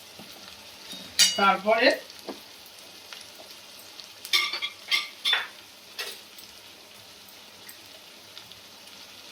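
Spice masala of chili powder and salt is stirred and fried in a pan for a Bengali chicken kasha, with bursts of sizzling and scraping in two clusters and a quiet pause between, and a brief spoken word.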